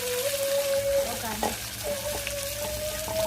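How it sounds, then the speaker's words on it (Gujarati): Vaghar tempering sizzling steadily in hot oil in a pan for a Gujarati lapsi dish, a continuous near crackle with a tonal whine running through it and a few stirring knocks. "સરસ મજાનો વઘાર થઈ જશે અને થોડીક વાર તેલમાં સડવા દેવાનો."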